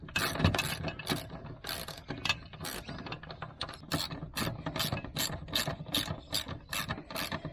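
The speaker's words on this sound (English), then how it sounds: "put my bolts back on, just a case of doing them up" Ratchet wrench tightening bolts back on, a rapid series of sharp clicking bursts in an uneven rhythm, close and clear with no talking.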